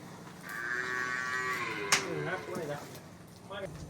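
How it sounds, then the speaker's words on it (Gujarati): Vadhiyara bullocks at a farm in a village near Mahuva low with a long, drawn-out, fairly close call, followed by shorter throaty sounds, while someone talks over the animals. "વઢિયારા બળદ છે, સરસ મજાના."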